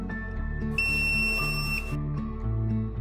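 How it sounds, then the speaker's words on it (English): A Waterdrop X12 reverse osmosis system gives a clear, steady electronic beep lasting about a second after its filter life indicator is held for reset, sounding close against a faint low hum with no talk. "Hold the F3 filter life indicator for 7 seconds until the system beeps."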